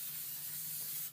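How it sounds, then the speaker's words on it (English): Spray adhesive comes out of a can onto HDPE covering in one continuous close hiss that lasts about a second and then cuts off. "I'm going to spray it and then set it aside inside the box"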